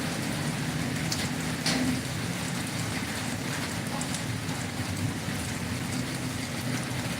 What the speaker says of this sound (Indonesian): Rintik-rintik hujan loh ya.